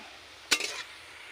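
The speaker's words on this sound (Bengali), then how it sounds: "পেঁয়াজ ভাজা ভাজা হয়ে গেছে। এবার যে মশলাগুলো পাইল করলাম এর সঙ্গে দিয়ে দিচ্ছি" Onions fried golden with ginger and garlic in a pan, with ground spices tipped in and stirred: a single short sizzling hiss and scrape that flares up loudly, then settles back to a faint background.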